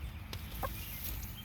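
A small Salmon Faverolles hen gives a couple of brief, soft clucks nearby amid a quiet outdoor garden background, with no talking.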